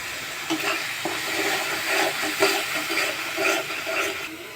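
Spice paste with salt and turmeric sizzles as it is fried in a pan for a mustard tangra fish curry, with steady hissing broken by repeated scraping stirs, close and fairly loud.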